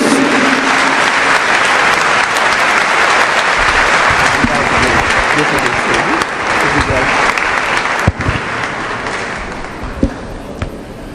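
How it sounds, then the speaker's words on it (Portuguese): An audience in a church gives a pastor a long, loud round of warm applause. The clapping stays dense and steady and begins to fade near the end, while voices can be heard underneath it. "Então eu queria que nós recebêssemos com uma calorosa salva de palmas"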